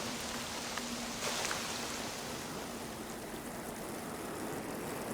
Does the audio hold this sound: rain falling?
yes